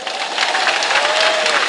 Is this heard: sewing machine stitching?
no